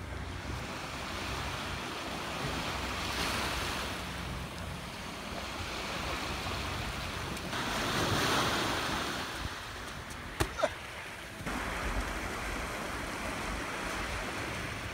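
Waves break and wash steadily on a beach on a cold night, with wind buffeting the microphone. A swell of surf rises near the middle, and a few sharp knocks follow; no one speaks.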